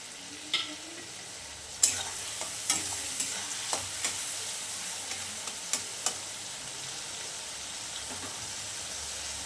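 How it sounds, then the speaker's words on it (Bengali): Ginger and tomato fry in oil in a pan, a continuous close sizzle punctuated by a series of sharp scraping and stirring clicks from a spatula, with no talk. "আদা টমেটো এগুলো না ভাজা ভাজা না হওয়া অবধি আমি একটু ভালো করে এটাকে"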